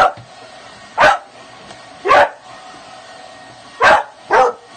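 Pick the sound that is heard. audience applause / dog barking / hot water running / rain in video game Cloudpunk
dog barking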